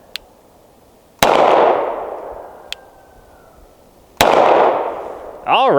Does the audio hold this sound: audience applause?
no